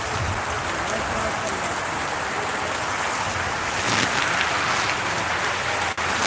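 A sudden heavy downpour roars steadily, a thick wash of drumming drops on surfaces that stays loud and even throughout.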